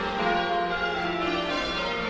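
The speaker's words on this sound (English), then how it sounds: "now they could hear the church bells ringing" Church bells ring with sustained, layered metallic tones, moderately faint and steady throughout a short stretch.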